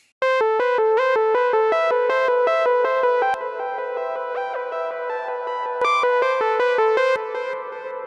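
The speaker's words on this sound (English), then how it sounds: "Quarter note delay with a bit of verb." Repeating synthesized notes processed with a quarter-note digital delay and a touch of reverb, each note echoing in a steady rhythm and blurring into a wash of space, loud and continuous with no voices.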